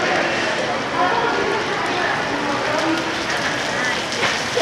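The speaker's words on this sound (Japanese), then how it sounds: "撮りますね、雨。" Rain falls outside a window at a mall in Cebu, a steady, loud wash of noise that holds evenly throughout, with a voice audible over it.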